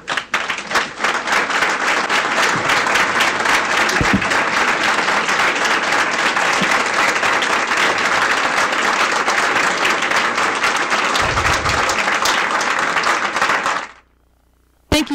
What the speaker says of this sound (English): if they could stand up and we can give them a round of applause